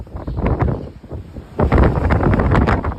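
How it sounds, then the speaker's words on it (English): Gusty wind buffets the microphone on a blustery day in Fort Lauderdale, a broadband roar that eases around the middle, then surges back loud and steady. "So it is a windy day here in Fort Lauderdale."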